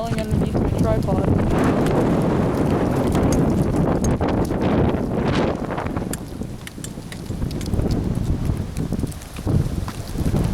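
Strong 20 to 30 mph wind roaring through a pine tree outdoors, a loud, steady broadband rush with gusty swells that dip briefly and then build again.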